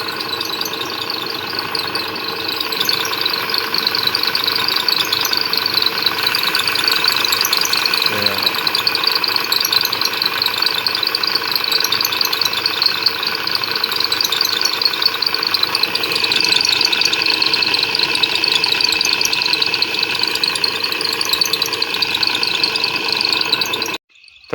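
A crop spraying machine's engine runs loud and continuous at a steady idle-like pitch with a tonal hum, close by and unbroken until it cuts off at the end.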